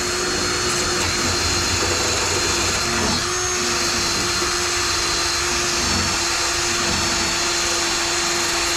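A power tool with an abrasive bit grinds surface rust off the body of a 1994 Flxible Metro D bus, a loud, continuous high whine with steady rasping grit, running close and unbroken throughout.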